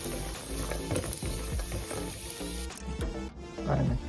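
Cashews and raisins fry in ghee in a pan, a close, continuous sizzle with light stirring scrapes throughout.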